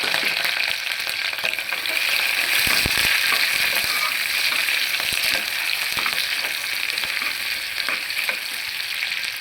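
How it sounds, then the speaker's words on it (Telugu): Green chillies and onion pieces frying in oil with biryani spices for a veg biryani, a loud, dense, continuous sizzle with occasional scraping stirs, close up and without talk. "తర్వాత పచ్చిమిరపకాయలు ఉల్లిపాయ ముక్కలు వేసుకోవాలి"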